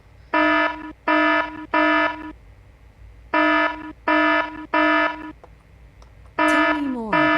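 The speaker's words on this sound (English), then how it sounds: "I'd like to ask how to shut that stupid alarm off." A blaring electronic alarm sounds in the video game Fallout 4 at a zoo in the rebuilt Avalon, loud harsh buzzes in groups of three with a pause between them, then another burst with a falling tone.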